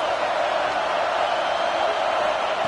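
Steady, dense roar of a large crowd in a college football stadium during a third-down red zone play, loud and sustained with no clear peaks.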